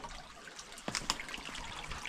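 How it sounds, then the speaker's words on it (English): Water trickles faintly along a rocky bluff line on a woodland hike, a soft steady dribble with a few brief splashy drips, heard alone at low level. "There's some more water trickling, and I think I can get over to it."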